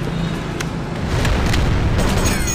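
A loud grenade blast rumbles through a zombie video game, a sustained booming roar that swells and holds for a couple of seconds with crackling debris on top.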